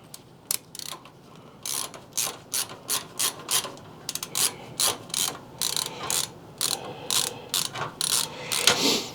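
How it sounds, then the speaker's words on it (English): A bracket screw is backed out of a PC case with a ratcheting screwdriver, giving a close, crisp run of regular clicking bursts that repeat steadily with short pauses between turns. "So we're going to take out the slot below screw here to begin with."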